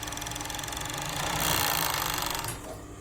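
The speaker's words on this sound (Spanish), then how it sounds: "estoy pasando con una puntada pequeña porque así me agarra todos los flequitos" A sewing machine runs a small stitch along the edge of a patch on denim jeans, repairing a worn crotch; a steady, loud, continuous whir that builds slightly, then slows and fades near the end, with no talk.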